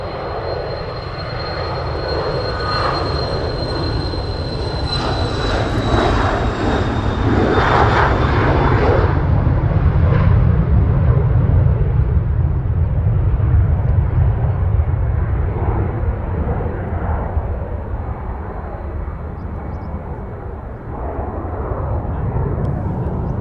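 Loud, steady roar of fixed-wing aircraft engines at Manchester Airport, swelling to a peak midway as a plane passes fairly close, then holding a continuous rumbling drone that eases slightly near the end.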